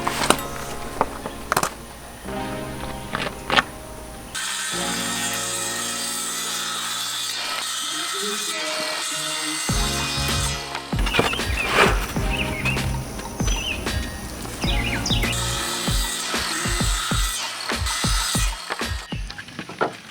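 Wooden planks, scrap decking boards, are cut into 3-foot sections for chicken coop nesting box doors. Loud power cutting runs in long harsh stretches, mixed with rattling, clattering handling noises between cuts.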